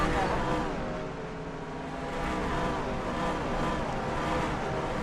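Stock cars in NASCAR Racing 2003 Season, a steady layered engine drone from several cars on track, with the pitch dipping slightly and then rising again as the driver pushes harder.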